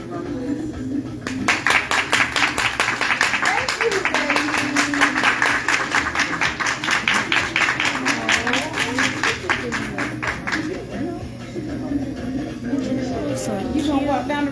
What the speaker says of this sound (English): we want to give another round of applause